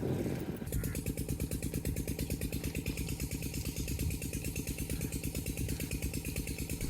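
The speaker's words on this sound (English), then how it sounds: "then we're starting the diesel engine again" A diesel engine turns over and catches, then settles into a fast, even, rhythmic chugging that runs steadily and fairly quietly to the end, with no voices over it.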